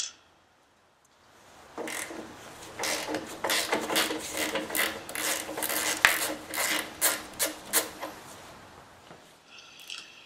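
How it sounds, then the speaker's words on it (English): A wrench loosens the main axle nut on a Harley motorcycle wheel, making close, metallic rasping and clicking bursts in an uneven rhythm after a short quiet start. "I loosen the main axle nut."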